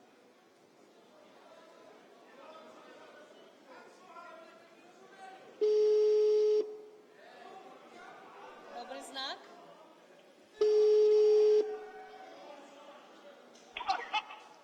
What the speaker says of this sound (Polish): Prosimy o ciszę, żebyśmy słyszeli telefon.